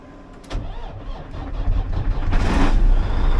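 An old truck with a Meritor 10-speed transmission cranks and fires up, a loud close engine catching after a sharp click and swelling into a rough, rumbling run.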